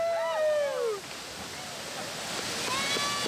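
A waterfall in Costa Rica pours with a steady, broad roar, with excited shouts and voices rising briefly over the rushing water.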